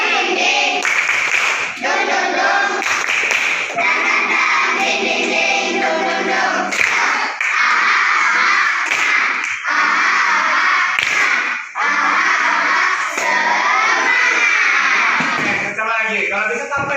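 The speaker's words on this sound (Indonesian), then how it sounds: "Ya, kita cek dengan tepuk tangan." A group doing rhythmic spirit-clapping tepuk semangat in a classroom-style session, sharp patterned claps bursting out between stretches of loud talk and crowd voices.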